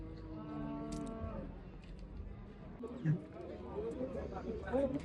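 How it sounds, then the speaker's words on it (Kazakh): A cow moos at the Karabulak livestock market, its low calls rising over steady crowd chatter and people talking nearby. "Жасамалы сиыр екен мынау."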